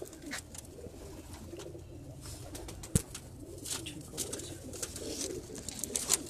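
Pure-bred pigeons coo softly at a breeder's loft in the Androon Lahore area, with low repeated cooing and scattered chirps, faint and near, with one sharp knock in the middle.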